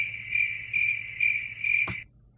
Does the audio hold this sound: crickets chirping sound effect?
yes